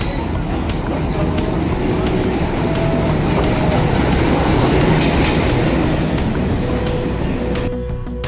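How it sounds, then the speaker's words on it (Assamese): A train rolls into a railway station, its loud, steady rumble and wheel clatter filling the whole stretch with brief tonal squeals, heard close up and continuous throughout. "ট্ৰেইন আহিছে।"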